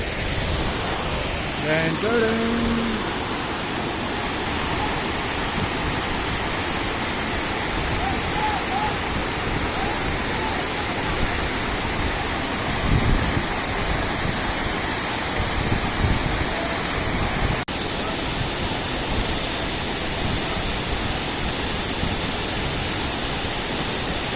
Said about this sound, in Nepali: बाहुबली नजिकै रहेको अर्को झरना होइन तपाईँलाई देखाउँछु गाइस